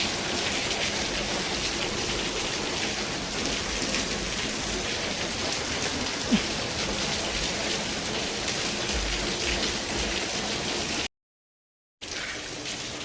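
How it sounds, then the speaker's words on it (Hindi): Heavy rain pours steadily in Munnar, a dense, continuous hiss of drops hammering nearby surfaces with no letup and no voices, cut by a short gap of silence near the end before the downpour resumes. "थोड़ा बारिश कुछ ज़्यादा ही तेज़ होना स्टार्ट हो गई है"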